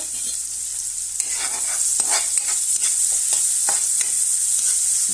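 Onion sizzles steadily in a hot pan for chicken feet, with a bright frying hiss throughout and several scraping stirs of a spatula breaking through, close and loud, with no voices.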